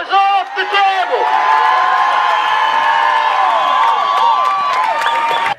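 A crowd of protesting union members on Cabinet grounds makes a loud, sustained din of cheers, whoops and shouting voices, with a rising chant-like roar that carries through the whole stretch.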